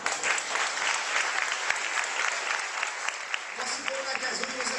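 A church congregation claps together in sustained, dense applause that fills the room, steady and loud throughout, with a few voices rising through the clapping near the end.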